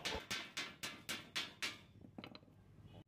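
A hammer strikes steel to knock off thick rust: six sharp, evenly spaced metallic blows land in quick succession, followed by a few lighter, quieter taps.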